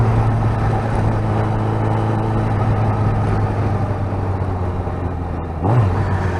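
Motorcycle engine idling and running on its first ride after work, a steady low hum and rumble, with a brief rising whine near the end.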